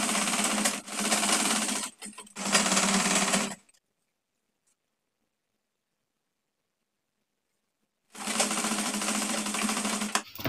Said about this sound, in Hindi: ये यहाँ पकड़ लेना है और सिलाई लगा देनी है